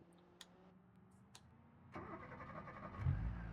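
A car engine starts after a couple of faint clicks, catching with a rise in level and settling into a fairly close, steady running rumble that swells slightly near the end, with no talk.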